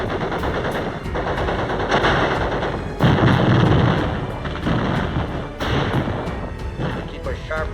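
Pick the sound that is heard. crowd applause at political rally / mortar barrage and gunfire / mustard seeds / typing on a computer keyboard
mortar barrage and gunfire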